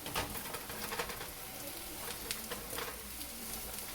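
Onions sautéing in a pan for a potato tomato curry give a soft, steady, low-level sizzle with faint crackles and the occasional stir, and no voices are heard.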